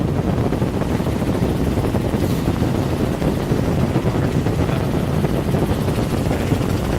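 A helicopter in flight over bays and streams, heard from inside as a loud, constant low rumbling roar with steady rotor throb and no pauses.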